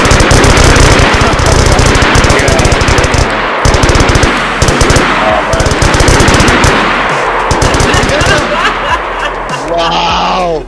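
Rapid machine-gun bursts in the survival video game DayZ, loud and close, coming in dense repeated volleys with short gaps, while players talk and laugh over the gunfire.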